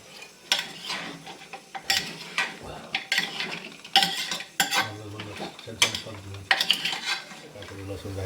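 Onions fry in a pan while a spoon stirs them, giving repeated clanking scrapes against the metal over a low sizzle. The strokes come in irregular bursts and sound close.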